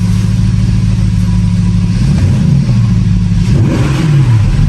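A Porsche Panamera GTS engine revs loudly and steadily, its deep exhaust note rising and falling with a couple of light pops and crackles near the end.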